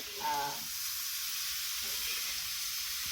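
Green chilies sizzle and hiss steadily as they roast on a hot iron griddle, with a brief murmur of a voice near the start.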